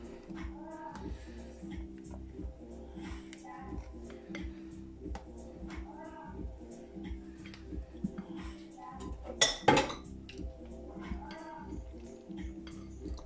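A spoon works steadily through vegan chocolate mousse in a bowl, a soft rhythmic stirring with light clinks against the dish and one sharper knock near the end, while a voice talks quietly alongside.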